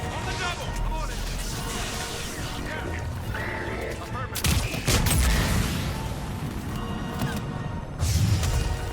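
Shots from a Turian enemy ring out in Mass Effect 3 Legendary Edition on Insanity difficulty, a few sharp bursts cutting through a dense, chaotic battle with explosions and crashes, while people talk throughout.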